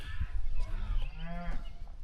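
Cattle moo on an Alaska cattle drive, one drawn-out low bellow rising and falling in the middle of steady outdoor rumble, heard fairly close.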